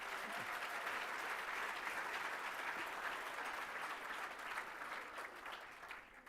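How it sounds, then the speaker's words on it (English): A conference audience at a Churchill Club evening event claps together in sustained applause, fairly distant and even, thinning slightly as it fades toward the end. "Let's give NetSuite a round of applause"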